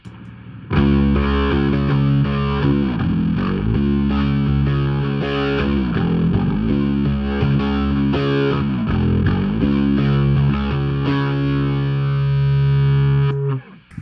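Distorted electric bass playing octave lines in a rock verse, thick buzzing sustained notes with a few brief note changes, loud and continuous before cutting off at the end, no voices.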